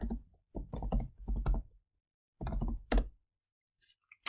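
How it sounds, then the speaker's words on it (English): Short bursts of computer keyboard typing, quick close key clicks in a few clusters separated by silent gaps. "So in here, I'm just going to type"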